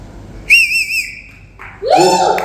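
Shrill whistles from an audience at a stage celebration for a TV serial's 1000th episode: a long wavering whistle, then a second burst mixed with cheering, fairly close and loud.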